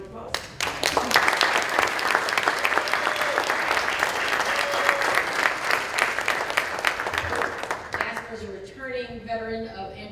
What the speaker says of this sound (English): Can we give Jasper a round of applause?